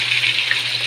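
Fried chicken pieces and their broth poured into a pot of crushed tomatoes for chicken pochero, giving a steady wet splashing pour, close and continuous without a break.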